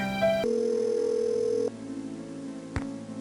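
A telephone in the Nancy Drew: Secrets Can Kill video game gives a steady electronic dial tone, then a series of short dialing beeps, ending with a click, close and clear with no voices.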